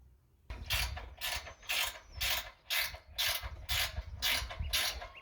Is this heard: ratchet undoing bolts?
yes